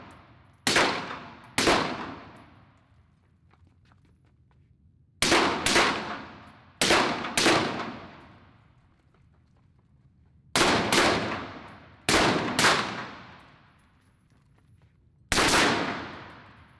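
Carbine rifle shots ring out on a shooting range during a timed drill, loud sharp cracks fired in quick pairs with short pauses between groups, each shot ringing with a metallic echo.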